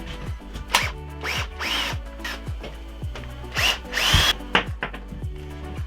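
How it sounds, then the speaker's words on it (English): A power drill spins repeatedly in short bursts while removing a frame nut on a Kawasaki Ninja 500R motorcycle, close and loud, with whirring rises and falls and metallic rattles between the pulses. "I'm gonna use my master scrap drill because I'm too lazy to get the other one."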